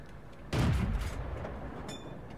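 A single heavy cannon shot from a tank in a World War II tank battle game, a sharp close boom with a rolling low tail fading over about a second.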